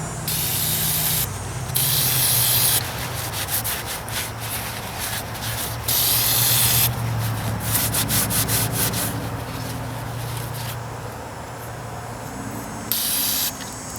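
Brake cleaner sprayed from an aerosol can onto the tie rod parts of a 1944 Ford 2N tractor, long loud hissing blasts that stop and start again, with rubbing and scrubbing between bursts and no talking.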